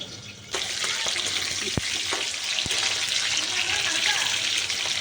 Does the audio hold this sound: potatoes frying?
yes